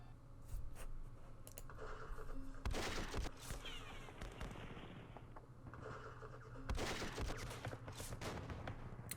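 Gunfire in the Campaign Series Vietnam war game aimed at a dug-in sapper platoon: dense bursts of shots and impacts at about 0.5, 2.7 and 6.7 seconds over a continuous rumbling battlefield backdrop.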